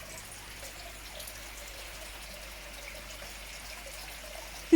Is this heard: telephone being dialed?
no